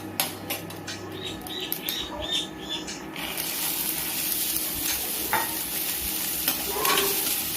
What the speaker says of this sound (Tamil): மிளகாயும் பொரிஞ்சதுக்கப்புறம் நாம் வேக வச்சிருக்க பச்சை பட்டாணியும் இது கூட சேர்த்துக்கலாம்